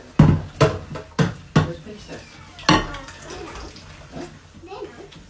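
Dishes and pots being washed in a home kitchen, with sharp clatters and clinks of dishware in the first few seconds and softer splashing and rinsing afterward, all close up.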